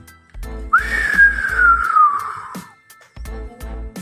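A loud, piercing whistle slides slowly downward for about two seconds, with rhythmic low thumps of music beating underneath.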